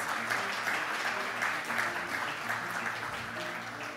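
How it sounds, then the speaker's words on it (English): Applause fills a hall at a banking association's annual meeting as Omani development bank executives are introduced, a moderate, steady patter of many hands clapping together that tapers slightly toward the end. "A round of applause"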